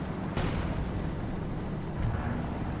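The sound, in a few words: artillery concentration barrage in Company of Heroes 2 video game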